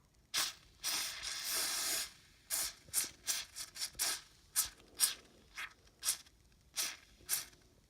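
Penetrant sprayed from an aerosol can onto rusty screws of a 1958 Westinghouse appliance, heard as a long hissing burst followed by a string of short, sharp spray puffs, close and fairly loud with no talking.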